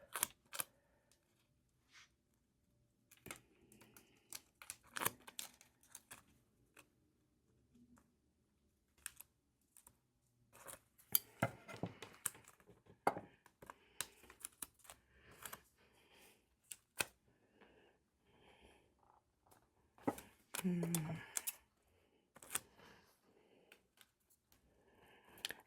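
Scissors cutting out paper flowers from a planner sticker sheet, giving scattered dry clicks and snips in irregular bursts with quiet pauses between, close and fairly faint.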